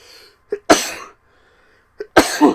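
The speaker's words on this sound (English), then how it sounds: "it's not often that I sneeze on these streams" A person sneezes twice, close and loud, each sneeze set up by a quick sharp intake of breath, with a quiet pause between the two.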